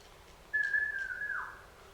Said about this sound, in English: Just whistling is fine.